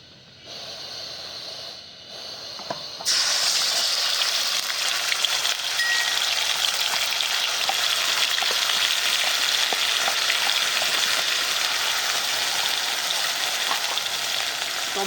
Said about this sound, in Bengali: এর মধ্যে আছে পেঁয়াজ বাটা, রসুন বাটা, আদা বাটা, জিরে, এর পেস্ট এবার তেলে দিয়ে দেবো।